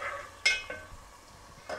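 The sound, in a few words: khoya being roasted and stirred on low flame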